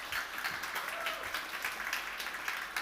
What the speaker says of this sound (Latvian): Pat ar ovācijām tiekam sagaidīts.